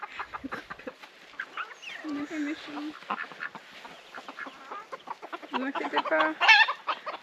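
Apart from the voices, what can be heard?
chickens clucking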